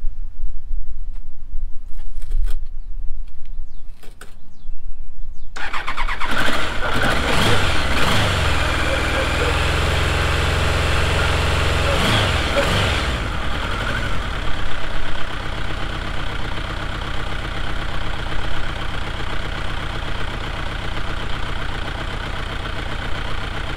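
Triumph motorcycle engine starting after a few quiet seconds, then revving and settling into a steady, loud idle with a throaty rumble.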